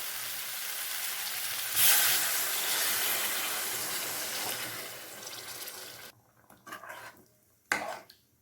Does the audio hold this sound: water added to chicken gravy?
yes